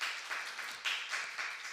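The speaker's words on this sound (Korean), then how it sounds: "우리 하나님께 영광의 박수 올려드리겠습니다" A church congregation applauds during a worship service, producing a brief, dense patter of many hands clapping together at moderate volume.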